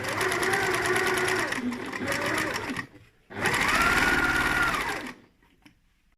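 Sewing machine back-stitching a fabric Christmas stocking runs in two loud steady bursts of rapid mechanical whirring, with a short pause between, then winds down, and a voice speaks faintly near the end.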